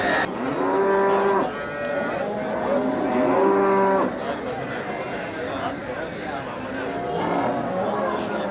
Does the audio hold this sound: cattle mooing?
yes